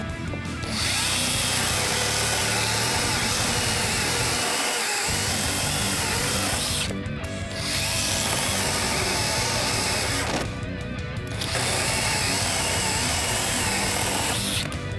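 Worcraft CHS-S20LiB cordless mini chainsaw cutting wood, a loud continuous high buzzing whine in long sustained bursts with short pauses between cuts.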